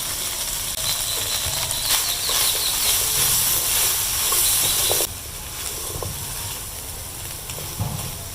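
Onion, garlic and spring onion frying in a pan give a steady, close sizzling hiss that runs unbroken, softening slightly partway through, with no one talking.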